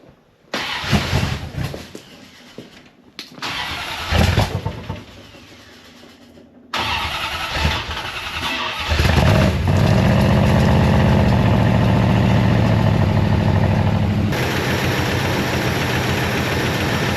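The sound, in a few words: 383 Chrysler Newport engine starting and running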